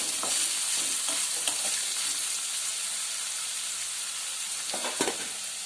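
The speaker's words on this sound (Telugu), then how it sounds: "ఇది కూడా ఒకసారి బాగా కలుపుకుంటే రైస్లో బాగా కలుస్తుంది" Hot cooked rice with salt is stirred in a sizzling pan for a broad bean pulao, giving a continuous hiss with occasional spoon scrapes and knocks against the pan.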